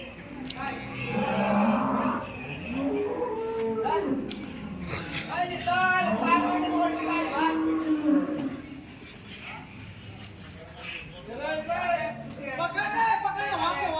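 Cows moo and low nearby several times at a dairy farm, with someone talking over them and faint farmyard background noise.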